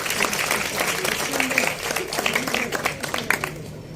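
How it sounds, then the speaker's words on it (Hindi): An audience applauds the children at a speech competition, a dense, steady clapping that fills the hall throughout, with a voice faintly audible underneath. "इन सब के लिए एक ज़बरदस्त तालियाँ होनी चाहिए"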